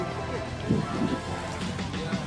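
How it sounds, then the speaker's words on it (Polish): Rain falls on a Copenhagen street as a continuous, close hiss and patter, with soft low rumbles underneath. "Niestety deszcz pada."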